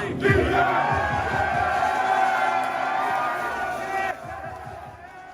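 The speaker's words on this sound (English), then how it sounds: "Coach Bud leading the team in a cheer, champagne popping, messy celebration" Milwaukee Bucks players cheering together in the locker room after winning the championship, a loud group chant and shouting that swells, holds, then cuts off abruptly, followed by quieter murmuring.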